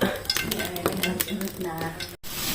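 A dish sautéing in cooking oil, busy sizzling mixed with clattering spatula and pan knocks up close, ending in a short cut and a quieter tail.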